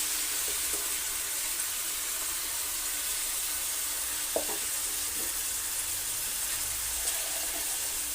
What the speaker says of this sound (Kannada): ಮಸಾಲೆ ಹಾಕ್ತಾ ಇದ್ದೀನಿ